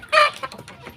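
Chickens cluck with a short rooster call among them, loud and close, one burst followed by softer fowl sounds in a rural coop holding young chicks.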